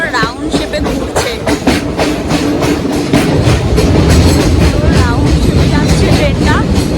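A train on the route to Dudhsagar Falls rolls along curving tracks with loud, steady clickety-clack of wheels over rail joints, close and continuous, with voices faintly mixed in.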